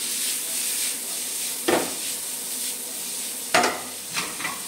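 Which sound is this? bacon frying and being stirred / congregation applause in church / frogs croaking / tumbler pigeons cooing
bacon frying and being stirred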